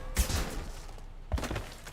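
Two sharp gunshots with low thumping booms ring out about a second apart in the video game Mass Effect 2, each trailing into a brief echo.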